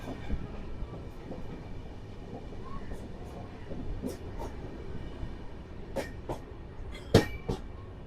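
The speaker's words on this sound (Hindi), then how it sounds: "ये आ गई गीता जयंती एक्सप्रेस।" The Geeta Jayanti Express rolls into an Indian railway platform with a steady low rumble of wheels, scattered clanks and a sharp squeal near the end, while people talk faintly in the background.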